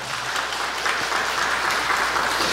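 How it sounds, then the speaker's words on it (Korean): Steady applause from a congregation at a Korean Baptist church in Austin during an ordination service, continuous and moderately loud without breaks. "주 2021년 10월 10일 어스틴 우리 침례교회 박수로 맞아주시기 바랍니다."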